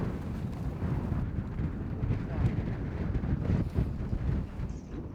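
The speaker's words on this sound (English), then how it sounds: "It's so loud here when the gust comes in." Winter wind gusts around a boat moored in Greenland, making a loud, continuous rushing roar that buffets the microphone and swells as each gust arrives.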